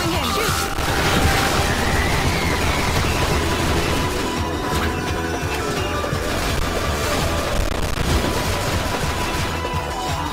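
Dense bursts of rapid gunfire and explosions in the video game The 3rd Birthday crowd together nonstop, loud and chaotic, with music and effects layered underneath.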